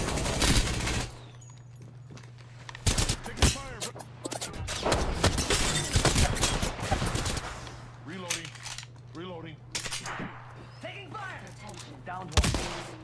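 Gunfire in Apex Legends: rapid automatic bursts and single loud shots in repeated volleys, mixed with players talking and an underlying hum.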